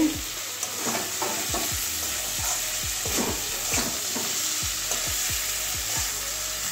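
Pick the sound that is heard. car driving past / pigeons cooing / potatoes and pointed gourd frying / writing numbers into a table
potatoes and pointed gourd frying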